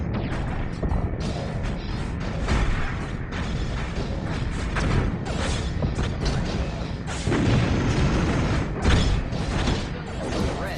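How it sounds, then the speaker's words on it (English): Homeworld Cataclysm space battle as a supply frigate is destroyed, dense overlapping booms, crashes and mechanical weapon fire rumbling continuously at high volume. "I think we finally destroyed that supply frigate"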